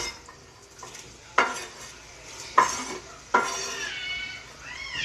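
Onion sizzles in a hot pan with a soft, steady frying hiss, broken by three sharp, close scrapes of a utensil stirring it. No one speaks.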